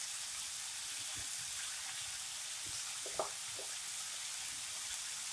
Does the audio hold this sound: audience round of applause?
no